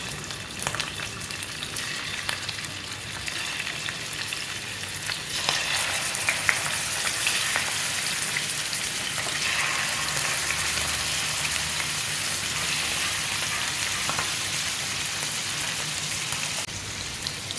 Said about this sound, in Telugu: ఆయిల్ అనేది వేడైన తర్వాత ఉప్పులో నానబెట్టుకున్న చికెన్ వేసుకోవాలి